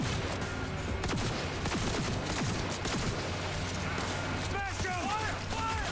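Close-range gunfire in Cyberpunk 2077 comes as a dense, continuous barrage of rapid shots and clattering impacts. Voices and combat noise are mixed in throughout.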